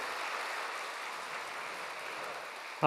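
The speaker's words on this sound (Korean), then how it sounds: "이처럼 좋은 예배의 자리로 불러주신 하나님께 우리 감사의 박수 한번 드릴까요?" A church congregation at an all-generations worship service claps together in a steady, dense wash of applause that stays even throughout, with a voice cutting in at the very end.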